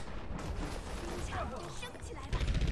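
Quiet, continuous rapid gunfire crackles through an Overwatch match, a dense rattle of shots that swells slightly louder near the end.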